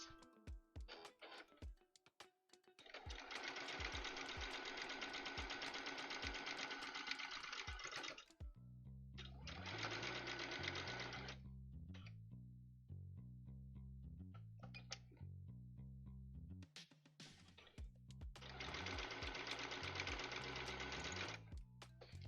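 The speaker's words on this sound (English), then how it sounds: "I just put a reinforcement stitch in" A serger sewing machine stitches pannier fabric in three loud, rapid bursts, with quieter intermittent running and pauses between them, close up and without talk.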